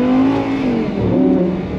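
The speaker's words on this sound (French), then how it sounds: "écoute-moi ce V10 que je te présente aujourd'hui" An Audi R8 V10 Spyder R-Tronic supercar on a Formula 1 Grand Prix circuit lets out a loud, close engine rev, its deep droning tone sagging briefly then surging again.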